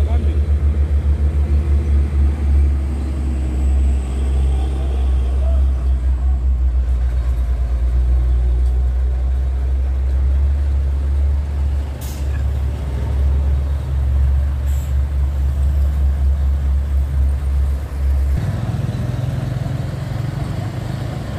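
A heavy dump truck engine idles with a deep, steady rumble, loud and close, dropping slightly in pitch toward the end.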